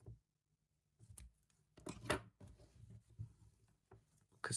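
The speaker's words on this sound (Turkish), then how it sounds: "İpimi kesiyorum." Scissors snipping glitter crochet yarn, a few faint, close, short crisp cuts separated by quiet handling sounds.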